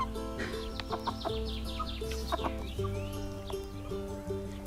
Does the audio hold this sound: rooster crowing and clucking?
yes